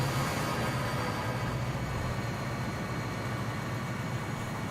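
Steady low diesel engine rumble of a GP20 locomotive in Train Simulator 2019, on Donner Pass, with broadband noise throughout and no voices.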